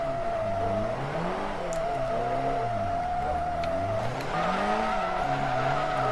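Drift car sliding with a steady, continuous tire squeal over a wavering, revving engine note as the throttle is held in a smooth RPM range, loud and close throughout with no talk.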